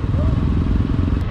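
Motorcycle engines from a group bike ride near Madalingana Kanive, Tumkur, rumble steadily and close in a brief, loud burst, with a voice heard over them.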